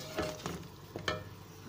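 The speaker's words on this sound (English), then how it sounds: "I'll stir them for 2 minutes" Spices are stirred into chicken frying in a pan, a soft sizzle running steadily under a few scraping strokes of the spoon, close and fairly quiet.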